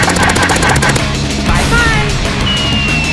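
Rapid video game gunfire rattles loud and continuous through the stretch, with a dense burst of repeated shots early on that gives way to ongoing combat noise and whooshing effects.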